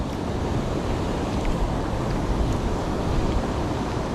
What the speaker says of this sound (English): You can see the water flowing out, and it's a bit turbulent here.